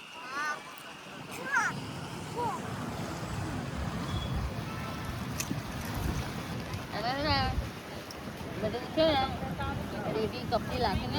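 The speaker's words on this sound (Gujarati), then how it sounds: "કેવી મસ્ત ઠંડી ઠંડી હવા આવે ને" Cool sea breeze at Marine Drive, Mumbai, rushing steadily across the microphone as broad wind roar, with people talking over it and faint distant sounds along the waterfront.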